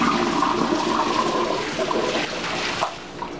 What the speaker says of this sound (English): Now I'm going to dump this hot water down the drain.